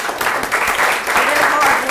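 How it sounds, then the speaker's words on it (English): A city council meeting audience gives a round of applause, dense and steady clapping filling the room at close range, with faint voices mixed in. "Let's give a round of applause."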